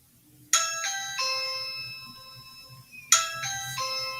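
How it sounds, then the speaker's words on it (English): A phone rings with a repeating chime-like melody, two clear bursts of bright tones about two and a half seconds apart, loud against a quiet room. "Why didn't I turn off this phone?"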